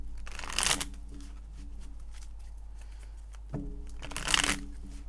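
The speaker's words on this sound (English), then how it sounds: "I don't know why I feel like I have to shuffle a little more." Tarot cards being shuffled for a reading: two short, crisp riffling bursts, one near the start and one near the end, with quiet room hum between them.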